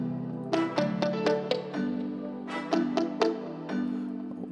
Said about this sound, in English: And now I added a guitar.